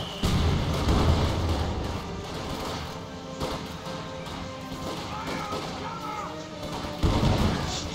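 Mortar shells and crashing impacts in Company of Heroes 2 make a dense battle din of thuds and bangs, with sharp hits near the start and close to the end and steady rumbling combat noise between.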